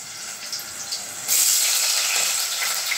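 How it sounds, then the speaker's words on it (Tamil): Onions sizzle and hiss in hot oil with a steady, bright frying noise that swells louder partway through, as if stirred, while cooking for a meal maker (soy chunk) gravy. "வெங்காயம் வந்து நல்லா வதங்கட்டும்."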